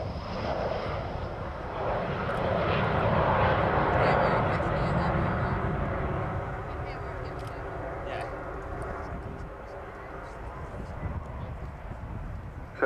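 An Avro Vulcan B2 bomber, XH558, flies at an air show with a broad, loud engine roar that swells and then slowly fades. A commentator talks over it throughout.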